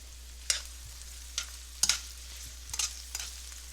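Onions and peppers sautéing in a pan for pepper steak, a quiet steady sizzle broken by several sharp scraping stirs, close and faint with no talking.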